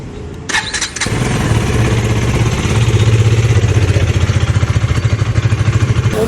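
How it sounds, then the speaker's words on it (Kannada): A parked vehicle starts outside a mall in Mysore: a brief clatter of the starter, a catch, then a loud, close engine settling into a steady, pulsing idle with no voices. "ಗಾಡಿ ಎತ್ಕೊಂಡು ಹೋಗೋಣ ಇವಾಗ."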